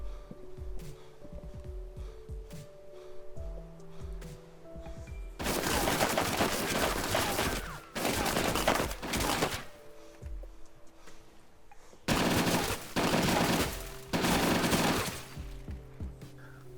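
Gunfire in DayZ Epoch strikes metal plate and wooden walls in two long, loud automatic bursts with sharp impacts, separated by a steady humming background.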